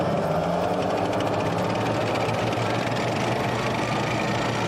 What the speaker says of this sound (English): the Army developed the Field Artillery Ammunition Support Vehicle,